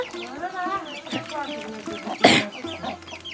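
A hen clucks in short repeated bursts close by, with a sharp rustling flap partway through.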